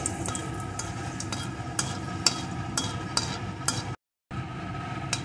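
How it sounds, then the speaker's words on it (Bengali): Black cumin seeds and a dried chilli frying in hot oil give a close, steady sizzle dotted with sharp popping crackles, cut by a brief moment of complete silence near the end. "এখন এই তেলের ভিতরে আমি দিয়ে দেব একটু কালো জিরে, একটা শুকনো লঙ্কা। এখন এটাকে একটু ভেজে নেব।"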